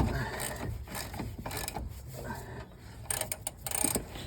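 A worn, heavily used clamp pressing a new ball joint into a Range Rover P38 suspension, giving a series of mechanical ratcheting clicks and creaks in short irregular bursts, close and moderately loud.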